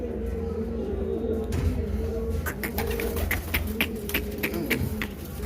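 Kamagar and Teddy pigeons coo softly at the Shahdra pigeon market in Lahore, a low rolling murmur under market bustle, with sharp clicks and taps scattered through the second half.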